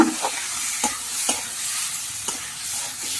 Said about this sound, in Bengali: আমি কষিয়ে নিচ্ছি আলুগুলো মশলার সঙ্গে